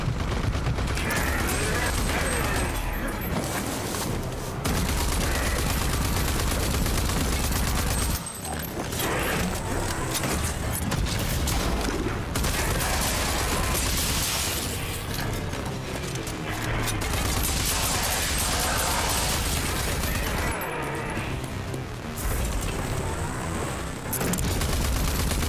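Sustained weapon fire in a video game, dense volleys of shots and booms rolling almost continuously with brief gaps, loud throughout and with no voices over it.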